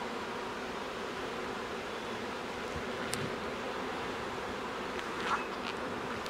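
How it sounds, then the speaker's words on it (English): Honey bees drone steadily around a brood frame of hatching brood, a soft continuous buzz with faint brief clicks and no voices. "So these are bees that are hatching, or eggs that are ready."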